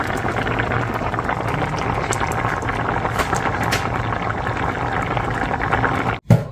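Vegetables boil in a pot with plenty of water, giving a steady, dense bubbling and rolling churn that stays even throughout, with a short clunk near the end.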